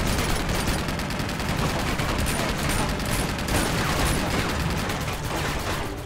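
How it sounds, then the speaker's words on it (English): A minigun firing in the video game Uncharted 2, a continuous rapid stream of gunfire, dense and loud, sustained without pause for several seconds. "that's a fucking minigun"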